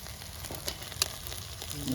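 Oil sizzling steadily in a hot pan while mutton curry is cooked over a village fire, onions already browned, with a continuous low frying hiss and a few sharper spits and crackles.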